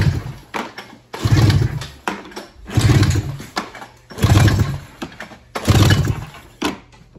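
Snowmobile engine with its spark plugs removed, pull-started over and over for a compression test: five loud, even bursts of cranking with brief pauses between them, close up and with no voices.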